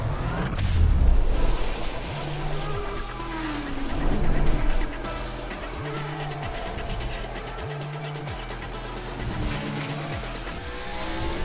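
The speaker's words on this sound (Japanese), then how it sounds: "車の、エンジン音" A car engine in Fortnite revs and roars steadily with rising and falling pitch, punctuated by repeated rhythmic low thumps, loud and close.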